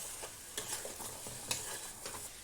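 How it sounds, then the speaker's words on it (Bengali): Fried potatoes and lentil fritters being stirred in a curry in a pan, with a steady sizzle and a few scraping stirs, close and fairly quiet. "দিয়ে এইভাবে নাড়ি চাড়িয়ে 1 মিনিট নেবো, এইভাবে কষিয়ে নেবো নাড়ি চাড়িয়ে 1-2 মিনিট।"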